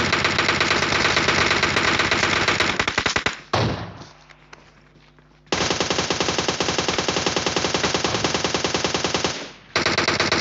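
Rapid automatic gunfire in the PUBG Mobile video game, loud sustained bursts of rattling shots that break off with a short pause and then resume in a long stream.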